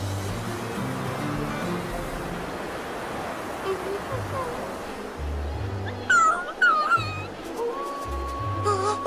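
Cartoon dog whimpers and lets out a few short, high yips near the end, set against a busy animated background with music and ambient noise.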